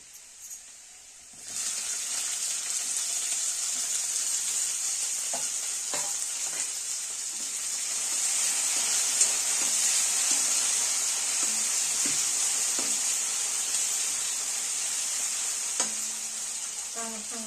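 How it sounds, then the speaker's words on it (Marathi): Onion and tomato sizzle loudly in a frying pan, the hiss starting abruptly and continuing steadily up close, with occasional scrapes and taps of stirring throughout. "कांदा जरा भाजत आलाय त्यात आपण टमाटर टाकूया"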